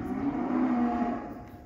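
A single cow among black ranch cattle lows in one sustained, fairly faint moo that swells and fades over a second and a half, with no voices around it.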